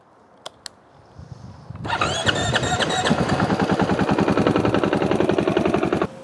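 A 2020 KTM 500 EXC-F motorcycle engine starts after a few clicks and settles into a loud, rapid, even idle close by, running steadily for several seconds before stopping.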